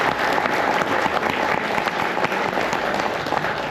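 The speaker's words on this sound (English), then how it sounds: "How about another round of applause for John" Audience applause fills a lecture hall after a talk on Washington's early war, steady moderate clapping from a seated crowd that continues without a break.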